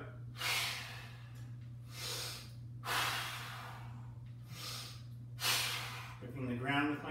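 Heavy, forceful breaths during a dumbbell bench press, with four or five loud bursts of breath at regular intervals over a steady low hum. A voice is heard briefly at the end.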